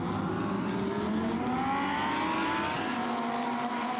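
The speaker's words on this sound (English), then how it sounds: "Tyler Hoffman accelerates through the Tornatino hairpin." A Lamborghini Super Trofeo race car accelerating out of a slow left-hand hairpin, its engine note rising steadily in pitch as it pulls away, heard at a distance as a continuous whining roar with no voices.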